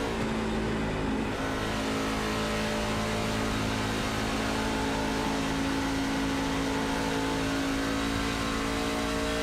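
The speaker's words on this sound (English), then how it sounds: "160 miles an hour, hoping that this Platinum Truck Series car sticks" A Platinum Truck Series race truck in a racing video game drones at about 160 mph, a loud, continuous engine roar held at steady pitch throughout with no let-up.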